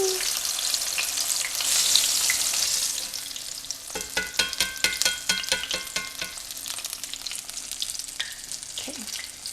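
Apple fritters frying in hot oil give a steady loud hiss and crackle, then a burst of clattering stir-and-flip sounds as pieces are turned, with the bubbling sizzle continuing underneath, close and without talk.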